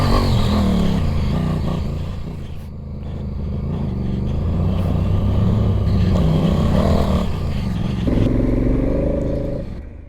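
A Honda Africa Twin Adventure Sport on stock tires labours up a steep off-road climb at Wildomar OHV Park, its engine droning and revving loudly nearby, rising and falling with throttle changes and some clatter.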